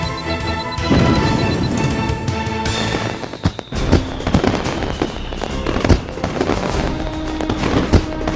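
A bomb explodes in the air during an action scene, a dense burst of booming crashes and crackling blasts, loud and sustained over several seconds with a busy, layered soundtrack.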